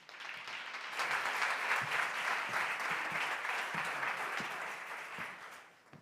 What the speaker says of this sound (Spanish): Un fuerte aplauso para Mónica.